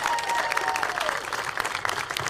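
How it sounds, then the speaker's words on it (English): Crowd applauding at a Bumblebee 1000 road tour event, a dense burst of clapping from many people with a faint tonal whine over it, fairly loud and close. "could you give them a round of applause,"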